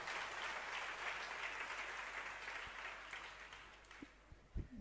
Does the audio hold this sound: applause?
yes